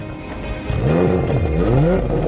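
A 2020 Porsche Macan Turbo engine revs loudly, its pitch swooping up and down in two or three surges over a steady rumble.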